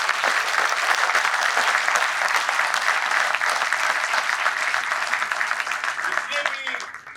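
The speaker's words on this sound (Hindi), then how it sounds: "उनके लिए एक जोर से ताली।" A large audience applauds loudly for a group of dancers at a cultural performance, sustained dense clapping that fades slightly at the end, with faint voices underneath.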